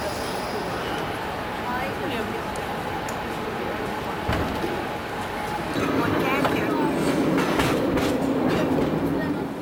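A San Francisco cable car runs along its rails at Powell Street with a steady rumble and rattle, a clank partway through, and a heavier rolling roar toward the end, with a busy street and tourists around it.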